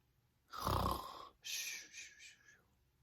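Two loud snores, the first a deep rumbling inhale, the second a raspier, breathier one, with a short pause between them; likely a person imitating snoring.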